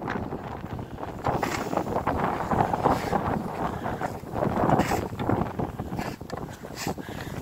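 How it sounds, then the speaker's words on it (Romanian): Strong wind blows outside a small earth house, buffeting the microphone in loud, gusty roars that rise and fall throughout, with no voices. "Și bate vântul foarte, foarte tare afară."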